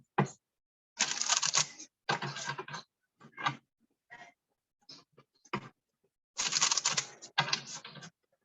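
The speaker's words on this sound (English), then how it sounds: "2 more shuffles." Tarot cards are shuffled in a series of quick, crisp riffling bursts, close and fairly loud, separated by short silences, with no talking.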